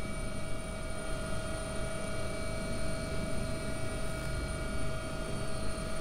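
AgustaWestland AW139 helicopter of London Air Ambulance, flown in the X-Plane 11 flight simulator, gives a steady, loud rotor and turbine drone with a constant high whine running throughout, with no talking.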